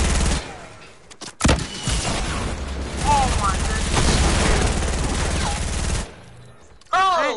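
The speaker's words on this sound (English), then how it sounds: "Who's shooting the floor?" Video game gunfire, someone shooting the floor: dense bursts of rapid automatic shots and booms fill most of the stretch, loud and close, with a brief lull near the end before firing resumes, voices faintly under it.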